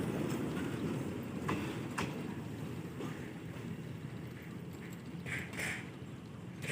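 A train rolls past near Pamplona in Bicol, a faint, distant rumble under steady wind noise with a few brief clanks and squeals.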